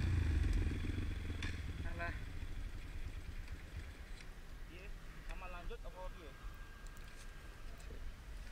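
A stalled motorcycle on a wet forest trail on Mount Raung is worked on and cranked after it broke down, giving a loud low rumble at first, then clattering and mechanical knocks with voices nearby.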